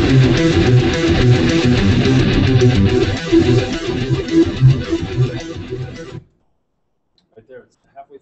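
A recorded, heavily distorted guitar track from a studio session plays back loud and dense for about six seconds, then cuts off abruptly to near silence with a few faint sounds afterward.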